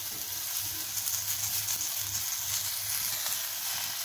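Fenugreek leaves fry in a pan with a steady, moderate sizzle and crackle, close by and continuous, with a low hum underneath and no one speaking.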